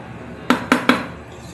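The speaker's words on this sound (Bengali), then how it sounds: "বাসনে ঢেলে নিলাম।" A cooked banana flower dish is emptied from a karahi into a serving bowl, with three quick, loud metallic knocks of the pan or spatula against the rim close by.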